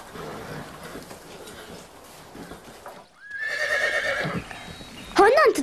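Wild mustang horses neigh and whinny in loud, shrill bursts near the end, with hoof clip-clop and voices talking earlier.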